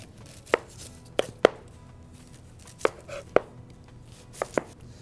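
Onions being chopped with a knife on a cutting board: about eight sharp, separate thuds in uneven groups, close and clear against a quiet background.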